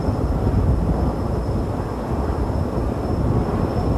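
Steady heavy rumble of a helicopter's rotor wash and wind buffeting the microphone during a mountaintop statue placement in Butte, Montana, loud and continuous without a break.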